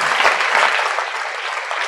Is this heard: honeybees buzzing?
no